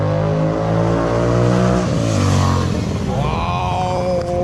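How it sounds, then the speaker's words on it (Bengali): A motorcycle with a loud aftermarket exhaust revs hard at full throttle, a close, loud, sustained engine roar that climbs, drops back and builds again. "বাইকটা এখন আসছে গাইস, অ্যান্ড ফুল থ্রটলে কীরকম সাউন্ড হয় সেটাই আর কি দেখার"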